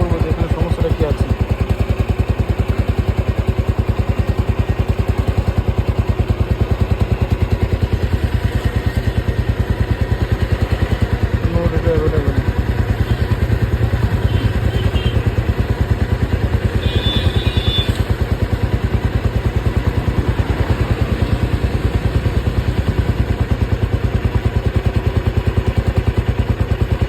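A Royal Enfield Classic BS6 motorcycle with an engine warning light and oxygen sensor faults idles steadily at close range, a continuous even thrum with light mechanical clatter and no clear speech.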